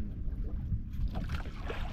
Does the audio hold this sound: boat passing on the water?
yes